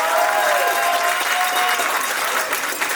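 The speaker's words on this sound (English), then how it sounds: "So can we give a big round of applause for all of these classes?" Dance recital audience applauding steadily, a dense, even wash of many hands clapping at close range, with a few cheers faintly threaded through.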